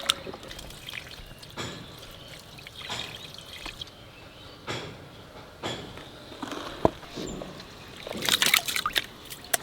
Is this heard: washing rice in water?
yes